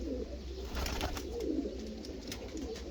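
Soft, low cooing of young pigeons, including Hungarian breeds, repeating in a gentle rhythm, close by, with faint rustling around them and no talking.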